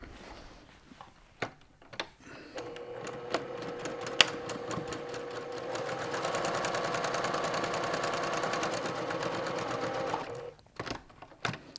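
A sewing machine stitches quilt pieces in a fast, steady mechanical whir lasting several seconds, preceded and followed by scattered clicks and handling noises, close and fairly quiet.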